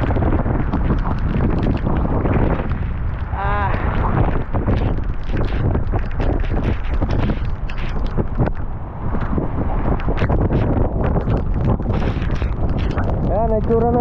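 Strong wind and rain by the sea roar and buffet the microphone nonstop, a loud rushing storm noise that drowns out almost everything else.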